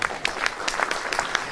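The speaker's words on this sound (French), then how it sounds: "Mesdames et messieurs, vous pouvez applaudir Florent Gautron." Audience applause for Florent Gautron at an investor presentation on Suez, a brief burst of scattered hand claps with distinct individual claps, moderately loud and steady, no talk over it.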